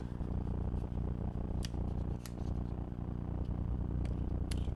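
Scissors snip and trim paper for a sunflower pop-up card, giving a steady close crunching cut with a few sharp snips, heard alone.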